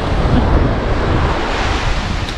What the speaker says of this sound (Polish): Chyba się robią coraz większe fale.